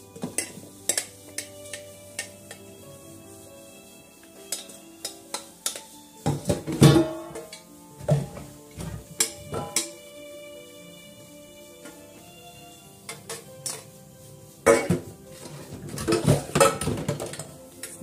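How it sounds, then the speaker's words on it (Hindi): Dishes clatter and clink irregularly as they are scrubbed, with scattered sharp knocks of metal and ceramic against each other. "देखिए कितने अच्छे मंज रहे हैं इससे बर्तन"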